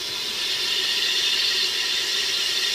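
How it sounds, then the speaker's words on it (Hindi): Tomatoes sizzle gently in a pan with hot oil, garlic and onion while a beef pasande dish is prepared, giving a close, steady hiss of frying that continues evenly without breaks. "बिल्कुल उसी तरह से हल्का हल्का सा फ्राई करेंगे ताकि हमारे टमाटर सॉफ्ट हो जाएं"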